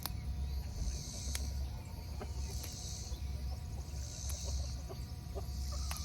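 Chickens cluck softly and steadily in a farm garden, with occasional sharper calls over constant low outdoor background and faint insects.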